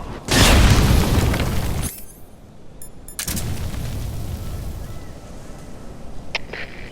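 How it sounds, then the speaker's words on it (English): A flamethrower fuel tank explodes in Metal Gear Solid Delta: Snake Eater, giving a loud, close boom with a rumbling tail, then a short lull and a second sustained burst of crackling fire and debris. "A single well-placed shot can ignite their fuel tank, setting them ablaze before the weapon itself explodes."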